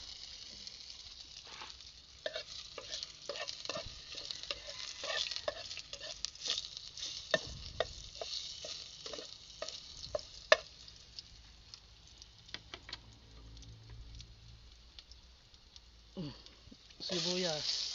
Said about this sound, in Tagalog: Umpisa na natin maggisa. Mainit na yung yung mantika.